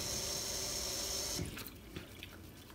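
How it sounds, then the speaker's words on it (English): Tap water runs steadily into a sink while a goose feather pastry brush is rinsed, a continuous wash of flow that breaks off partway, leaving a few drips and small handling knocks. "rub it to wash the egg off. And just rinse."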